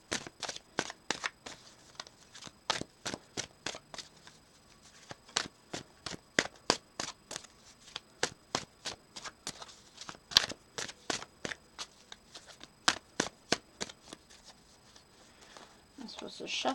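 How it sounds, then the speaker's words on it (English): Tarot cards being shuffled close up in quick, crisp riffles and snaps, repeated in irregular bursts with brief pauses between them. "I'm supposed to shuffle again."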